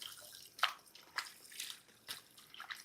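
Chicken pieces rinse under running water in a kitchen sink, with a soft continuous flow broken by several splashy drips and spatters, fairly quiet and without any talking.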